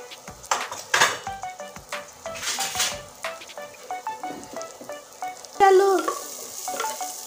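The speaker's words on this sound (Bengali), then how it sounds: "আমি পেঁয়াজটা আবার নেড়ে নিচ্ছি।" Onions frying in a pan with a little turmeric, stirred with a utensil: repeated scraping and clinking strokes over a steady close sizzle, with one louder burst of frying midway and a brief spoken word.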